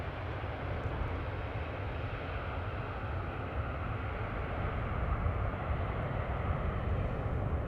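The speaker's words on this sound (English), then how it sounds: "KLM-E2 Embraer 195 having arrived from Milan," KLM Embraer 195-E2 jet rolling out after landing at Amsterdam Schiphol, a broad steady engine roar and rumble holding constant throughout, moderately distant with no voices.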